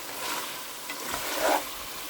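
Chicken browning in oil in a pan for a home-style cauliflower and chicken dish, giving a soft, steady sizzle and crackle close up with a slightly louder burst of frying near the end, no voices.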